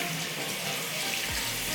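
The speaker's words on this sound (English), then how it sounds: "Took it out of the cover pot, and now I'm going to rinse her." Running water rinses a houseplant out of its cover pot in a bathroom, a steady close splash that drops in pitch and deepens toward the end, as if the flow hits a basin or fills up.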